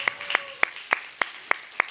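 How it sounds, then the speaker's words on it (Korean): Sharp, evenly spaced hand claps ring out at a church Sunday service, about seven distinct slaps in under two seconds, close and clear with no talking. "박수로 모십시다 박수로"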